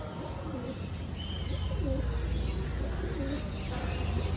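Large pigeons at a market cooing in repeated low throaty phrases, close and steady over a constant background hum, with a faint chirp or two.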